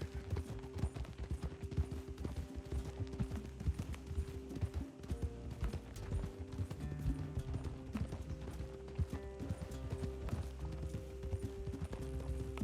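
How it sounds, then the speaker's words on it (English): Galloping horse hooves clip-clop in a steady rapid rhythm through Red Dead Redemption 2, layered over game music and ambient sound, with occasional faint mechanical clanks. "Un caballo que corre y que funciona"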